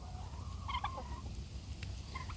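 Poultry birds chatter and cluck in a short, warbling burst of calls, then fall quiet before a faint call returns, with a steady low background rumble throughout.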